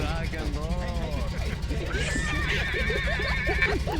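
A person voices a mock dragon roar that comes out as a neighing, whinny-like cry, a voice imitating the sound, with other voices talking around it.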